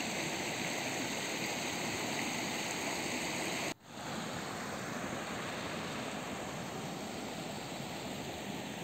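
A river rushes through Berezovsky Gorge in Kislovodsk, a steady, dense, close roar of flowing water that briefly dips once partway through before returning unchanged.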